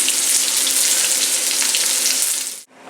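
Cauliflower lands in a hot pan for browning and sets off a loud, dense, close-up sizzle that holds steady for a couple of seconds before cutting off abruptly.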